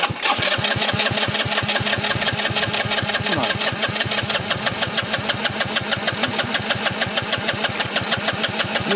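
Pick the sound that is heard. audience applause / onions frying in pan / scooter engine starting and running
scooter engine starting and running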